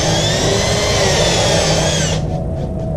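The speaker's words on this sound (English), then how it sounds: "drill out a hole" A power drill whines steadily at high pitch, boring a center hole in California oak for a bowl-turning chuck screw, then winds down and stops near the end.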